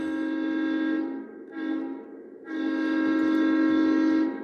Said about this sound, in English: Blow that horn.